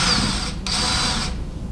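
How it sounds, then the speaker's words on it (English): Power drill boring a starter hole straight down at 90 degrees for a laminate countertop installation, running at high speed as a steady close whine with a brief dip in the middle. "I'm going to start with my drill totally up and down, upright, 90 degrees. Okay, no angle yet, and just start a hole."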